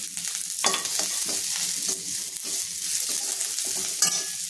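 Onion fried with garlic, ginger, sesame seeds and coriander seeds sizzles loudly and steadily in a pan, with repeated scraping stirs and a sharp clink near the end.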